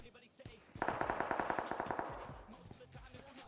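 A rapid burst of automatic gunfire rattles out in PUBG Mobile, with about a dozen close sharp shots over roughly a second. Fainter distant shots and some game noise come before and after.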